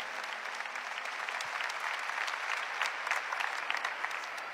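A congregation at a New Year religious retreat applauds in a sustained, dense wash of clapping that holds at an even, moderate level for several seconds, heard from a little distance.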